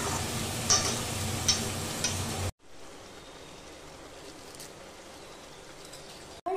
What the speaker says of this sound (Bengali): তারপর সবজিটাকে ভালো করে নেড়ে নিয়ে